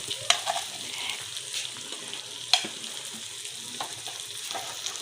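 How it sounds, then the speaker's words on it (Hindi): Crushed red chili fries in a pan with a soft, steady sizzle, punctuated by a few sharp clicks and scrapes of a spoon against the metal. "कूटी हुई लाल मिर्च को अच्छी तरह से भून लेंगे।"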